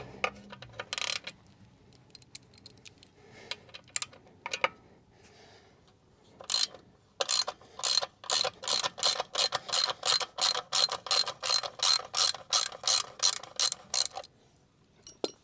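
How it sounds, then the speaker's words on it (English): A hand ratchet loosens a 12mm exhaust bolt on a Honda NC750X motorcycle, a few isolated clicks and clanks early on, then a long even run of sharp, close ratcheting clicks. "there's a 12mm bolt under here which you loosen"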